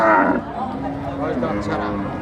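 An eight-month pregnant cow at the Sharatnagar cattle market gives a low drawn-out moo, close and fairly loud, with people talking around it.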